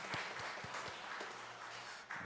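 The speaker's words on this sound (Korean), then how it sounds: "찬양 인도하신 분들에게 다시 한번 감사의 박수 드리겠습니다" Congregation at a Korean church Sunday service clapping in thanks to the praise leaders, a steady, moderately faint patter of hands in a large sanctuary with a few sharper individual claps standing out.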